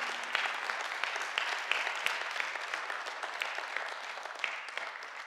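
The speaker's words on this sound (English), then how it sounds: "Let's give a clap to the Lord Almighty." A church congregation claps together, a steady dense patter of many hands that swells and carries on for several seconds, with faint murmurs underneath.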